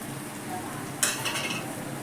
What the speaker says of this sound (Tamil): போட்டு நல்லா கிளறி விட்டு இறக்கி